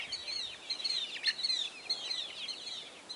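Chickens in a homemade wooden chicken tractor give off a busy, continuous mix of high chirps and soft clucks, fairly close and steady throughout with no talking.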